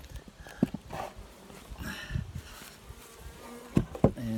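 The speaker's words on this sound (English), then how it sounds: "And there's some of the bees." Honeybees buzzing softly inside a freshly opened hive box, a faint continuous hum with scattered knocks and handling noises from the lid and frames.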